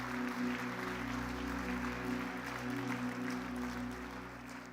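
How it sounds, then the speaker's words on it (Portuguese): A church congregation applauds steadily for several seconds, a dense even wash of clapping over a sustained organ-like hum in the room. "Pode aplaudir o Senhor."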